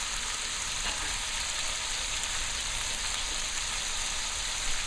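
Ground clove, star anise, cardamom and black pepper frying in a pot for Guyanese pepperpot seasoning, a steady close sizzle that crackles without pause.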